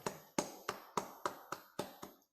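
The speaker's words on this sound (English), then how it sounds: "Let's give them all a big round of applause." Eight crisp, evenly spaced hand claps in a steady rhythm at a small salon concert, close and clear in near silence, fading out after about two seconds.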